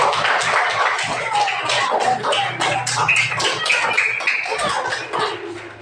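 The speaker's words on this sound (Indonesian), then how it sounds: "coba kasih tepuk tangan sama adik semuanya" Students in a classroom clap together in a quick, patchy burst of taps and pats, mid-distance and fairly loud, with shuffling and murmured voices underneath.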